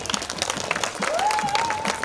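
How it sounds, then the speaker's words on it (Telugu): An audience applauds at a Telugu stage play, a dense burst of clapping from a crowd lasting a couple of seconds, with a faint tone or voice rising partway through. "మీరు చప్పట్లు కొడితే ఆనందపడతాం."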